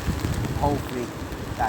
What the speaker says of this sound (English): Rain is setting in now as well, and the wind is starting to pick up.